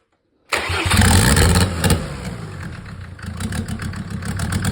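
A Mercedes OM605 2.5 turbo diesel engine cranks and catches abruptly after silence, then settles into a loud, rough, clattering idle nearby.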